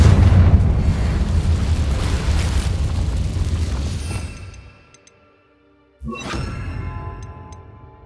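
A Confringo fire spell explodes in the Hogwarts Legacy video game, a loud rumbling blast that fades out to near silence before a second sharp burst hits and decays.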